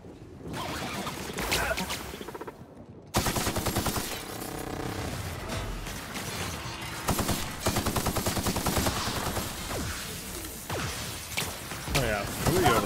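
Rapid sustained gunfire from a rotating multi-barrel gun in the video game The Outer Worlds, loud and continuous bursts across the whole stretch with a brief gap early on, mixed with other game combat noise.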